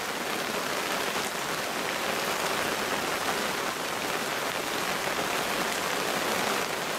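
Early rainy-season rain falls steadily by a rural roadside in the Mekong Delta, a dense, even, close hiss of drops on surfaces that holds constant throughout.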